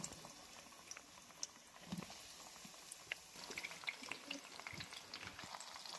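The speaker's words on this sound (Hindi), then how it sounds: "तो चलिए हम फ्राई करते हैं इसको।" Breaded potato donuts fry in hot oil, giving a faint, steady bubbling sizzle with scattered small pops and crackles throughout, with no talking.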